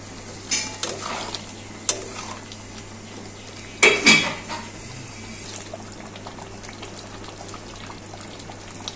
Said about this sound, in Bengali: এটা দিয়ে ভালো করে কষিয়ে নেবো একটু।